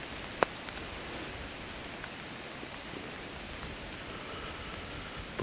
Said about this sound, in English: It's kind of windy, it's kind of rainy.